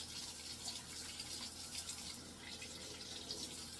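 Water runs softly from a tap as a water bottle straw is rinsed under the stream, a faint, steady splashing trickle with no voices.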